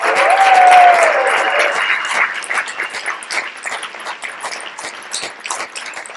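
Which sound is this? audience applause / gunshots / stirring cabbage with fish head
audience applause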